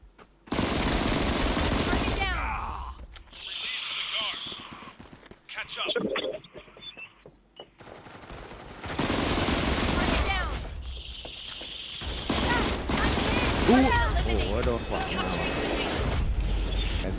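Rapid automatic gunfire bursts from the shooter game Disorder crackle loudly in several long volleys, separated by brief lulls, with voices talking over them.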